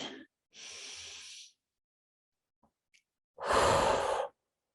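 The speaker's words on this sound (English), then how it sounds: "Let's take a deep breath." Slow deep breaths, a long inhale followed after a pause by a louder, fuller exhale, close and breathy in a quiet room.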